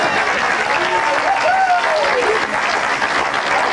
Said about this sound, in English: A big round of applause for our volunteer.